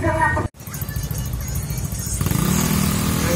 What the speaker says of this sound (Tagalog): Ay, grabe talagang traffic oh.